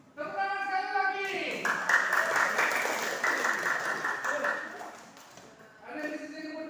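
Brief round of applause from a classroom group, clapping rising and holding for a few seconds under a background voice, then tapering off.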